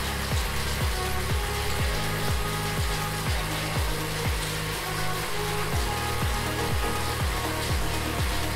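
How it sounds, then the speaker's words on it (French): A steady broadband whoosh of a running electric fan fills the space continuously, with a regular low thumping pulse repeating underneath about once a second. "J'ai allumé le ventilateur parce que moi j'ai déjà fait un peu chaud."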